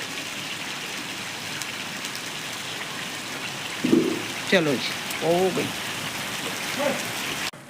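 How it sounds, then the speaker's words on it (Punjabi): Steady rain falls through the whole stretch, pattering on surfaces at close range, while a few short bursts of nearby talk rise over it toward the middle. "ਮੀਂਹ ਆਉਣ ਕਰਕੇ ਹੁਣ ਵੀ ਕਣੀਆਂ ਮੇਰੇ ਉੱਪਰ ਡਿੱਗ ਰਹੀਆਂ ਨੇ"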